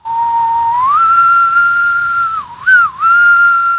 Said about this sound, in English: Outside, you hear the whistling again, this time a little bit louder